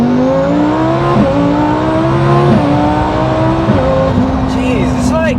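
Twin-turbo Lamborghini Huracan tuned to 1100 hp accelerating hard through the gears. A loud, steady engine roar climbs in pitch and drops at each upshift, with brief squeal-like high whines near the end.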